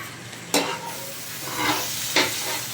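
Onion masala for a fish curry is stirred and fried in a pan, a continuous sizzle broken by a few sharp scrapes of the spoon against the pan, close and without talking.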